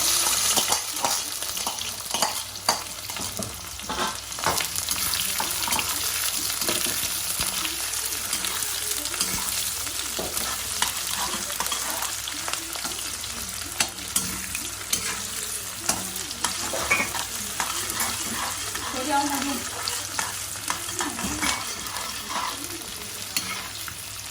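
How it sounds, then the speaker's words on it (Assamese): Onions fry with cardamom, cloves and panch phoron spices in a pan, a constant dense sizzle with frequent stirring scrapes, close and loud, with no talk over it. "এইখিনি দিয়াৰ পাছত পিঁয়াজ দিলোঁ।"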